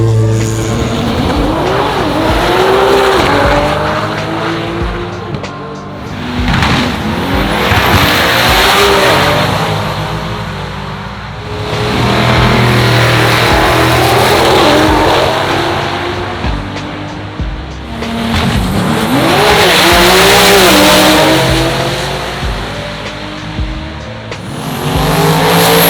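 A drag racing car roars loudly through repeated hard accelerations, engine pitch sweeping upward with tire squeal and skidding noise, the surges rising and falling in waves close by.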